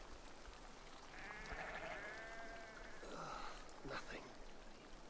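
A sheep in Assassin's Creed Valhalla gives a faint, wavering bleat and then a shorter second call over a steady hiss of in-game ambience.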